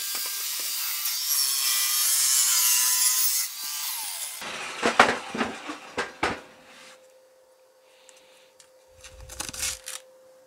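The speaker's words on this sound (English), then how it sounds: "Right, to the table saw." A table saw in a home workshop cuts scrap wood for storage. A loud, sustained whine comes first, then it winds down, followed by several sharp knocks and rubbing clatters of wood being handled nearby.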